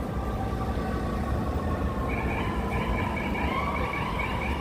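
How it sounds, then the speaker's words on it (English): Distant emergency sirens wail over a constant Midtown Manhattan street rumble of traffic near Lexington Avenue, New York City, continuous and moderately loud with no voices. "The usual sirens."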